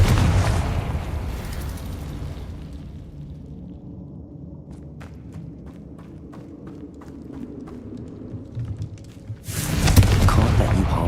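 The Confringo blasting spell in a fantasy video game explodes as a sharp, booming burst, followed by a quieter stretch of scattered clicks and footsteps, then a second loud explosive blast at the end.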